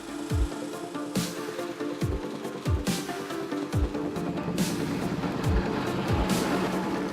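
Race cars at the 2016 Rampa do Caramulo hill climb roar past and shift up repeatedly, each gear change a falling engine note, loud and continuous with crowd and ambient noise behind.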